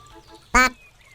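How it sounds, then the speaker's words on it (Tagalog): A single loud, nasal duck quack, brief and close, standing out against quiet background. "ang lumabas ay isang bibe na malaki at pangit"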